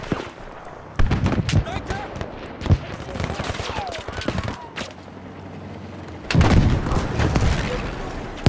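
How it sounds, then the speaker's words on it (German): Explosions and gunfire from the World War II shooter Battlefield V, with loud bursts and booming impacts around 1, 2.7 and 6.3 seconds over continuous battle noise and scattered game sounds. "Explosion,"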